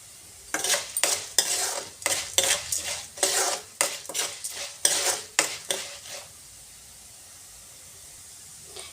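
Urad dal, coriander seeds and green chillies are dry roasted in a pan. Loud, quick scraping strokes of a spoon against the metal pan come in a steady series for about five seconds and then stop.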